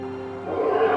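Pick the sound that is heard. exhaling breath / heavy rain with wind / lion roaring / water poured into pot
lion roaring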